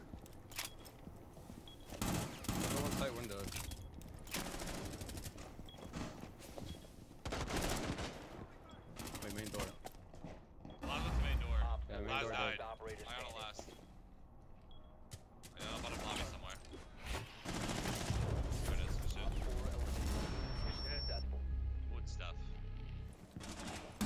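Rapid bursts of gunfire in a first-person shooter video game, loud clustered volleys and single cracks spread across the stretch, with quieter gaps between bursts and a player's voice talking at times.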